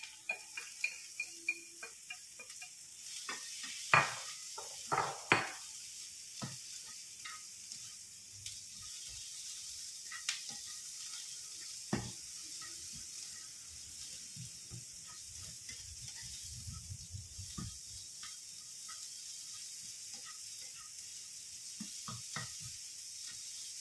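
Bell pepper, shiitake mushrooms and chili sizzle softly in a pan for tofu sisig, with a steady hiss broken by scattered clicks and scrapes as the vegetables are stirred together.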